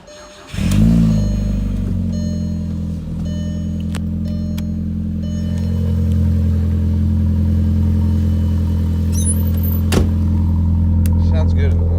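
A Volkswagen GLI engine cranks and catches on a freezing cold morning, then settles into a steady, loud idle with a rising rev partway through, close by and running alone.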